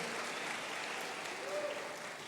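A church congregation claps in worship, an even wash of applause held at a faint distance for the whole stretch, with no clear voice on top.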